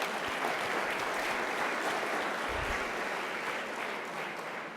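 Audience applause at a local candidates night, a continuous wash of many hands clapping at steady volume, easing slightly toward the end.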